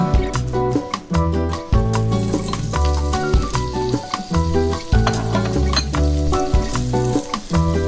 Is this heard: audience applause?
no